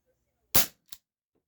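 A Gamo PT-80 CO2 air pistol fires a light pellet: one sharp, loud crack, then a brief fainter report shortly after, with quiet before and after.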